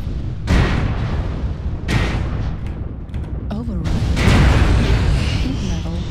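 Incoming LRM missile explosions from MechWarrior Online, with heavy booming blasts at irregular intervals over a constant rumbling battle din, and a synthetic voice or radio chatter breaking through partway.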